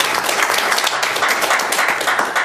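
Steady applause from an audience at a Korean Democratic Party reform committee debate, dense clapping filling the room without a break, fairly loud and close, with no speech over it.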